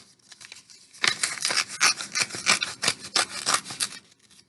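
Paper envelope of autographed cards mailed from Indianapolis being torn open by hand, a steady run of close, loud ripping and crinkling bursts after a quiet second, with no talk.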